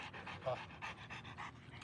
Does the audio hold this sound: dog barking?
yes